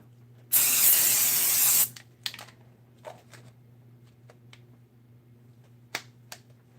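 A short burst of aerosol spray onto batting hissing for just over a second, followed by scattered soft clicks and handling noises.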